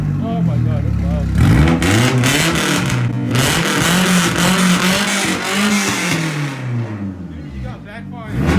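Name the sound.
Nissan 240SX engine revving with backfire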